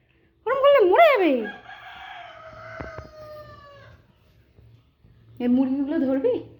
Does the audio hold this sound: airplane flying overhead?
no